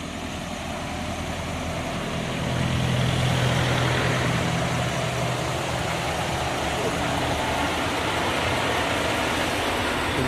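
Trucks sit idling in a stalled traffic jam on I-81 near Roanoke on a hot day, engines and air conditioning running. Together they make a steady low rumble that swells slightly partway through and then holds.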